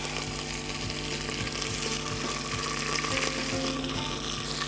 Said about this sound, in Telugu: ఇప్పుడు బీనీస్ వేస్తున్నాము